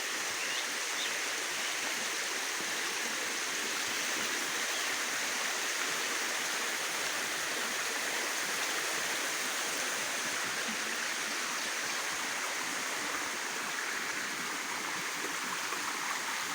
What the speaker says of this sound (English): here's this spring just popped up, literally just a pop-up spring that really floods out after good rains